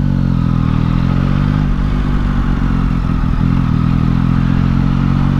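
A 2022 Yamaha MT-09 motorcycle rolling at low speed, its engine giving a steady, loud, close mid-range drone with a faint clattering texture and no talk over it.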